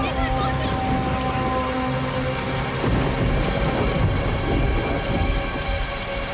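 Heavy cartoon rain pours steadily while thunder rumbles through, loud and continuous with a dense low roll and no voices.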